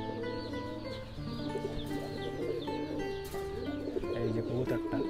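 Fighter pigeons, the speaker's favourite indoor birds, coo in a low, steady murmur that fills the space, with several overlapping calls close by and constant background chatter of a loft.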